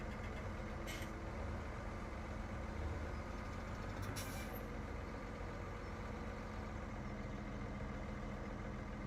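A tractor engine in Farming Simulator 2017 drones steadily and loudly for the whole stretch, joined by two brief hissing bursts, with no talk over it.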